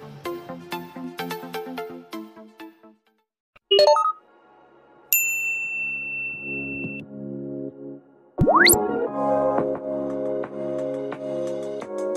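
A notification bell sound effect: a bright, clear ding rings out alone near the middle, followed by a rising whoosh and music, with a short musical intro before it.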